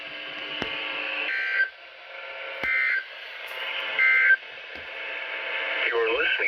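Emergency Alert System tones and data bursts play over NOAA Weather Radio in several loud electronic bursts, broken by sharp clicks, with a synthetic broadcast voice filling the gaps.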